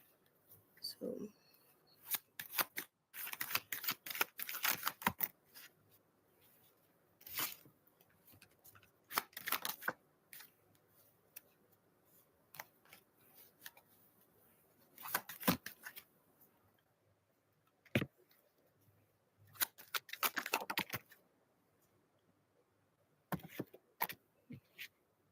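A deck of tarot cards is shuffled in repeated short bursts of crisp riffling and flapping, close to the mic, separated by quiet gaps over about twenty-five seconds.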